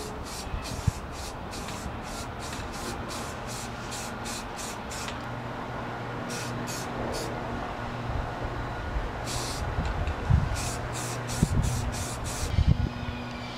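Primer sealer hisses from a spray gun in repeated short bursts with pauses between, fairly faint against a quiet shop background, with a few knocks and handling noises.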